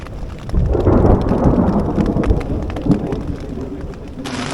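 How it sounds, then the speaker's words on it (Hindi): Rain drums steadily on a tent high in the Himalayas near Manali, with deep rolling thunder swelling through the middle; a loud, close, continuous patter with no voices. "अब बारिश शुरू हो चुकी है"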